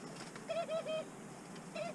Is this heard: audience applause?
no